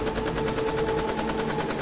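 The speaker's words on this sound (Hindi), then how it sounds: "उसके पीछे से गोलियों के चलने की तेज आवाजें शुरू हो गई।" Rapid automatic gunfire from AK-47 rifles serves as a sound effect in a Hindi horror story, a continuous fast rattle of shots at moderate loudness for about two seconds.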